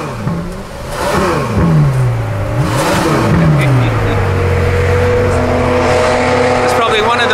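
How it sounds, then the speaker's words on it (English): A Ferrari F12 V12 engine revs hard several times, rising and falling in sharp sweeps before settling into a loud idle, with voices in the background. "It's probably one of the best sounding cars on the planet. It's a Ferrari F12."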